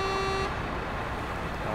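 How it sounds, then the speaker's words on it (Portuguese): In the video game SnowRunner, a Caterpillar 770G truck's single short, loud horn blast sounds over a steady engine rumble, then cuts off leaving the vehicle droning on. "Dá uma buzinadinha pra espantar os pássaros"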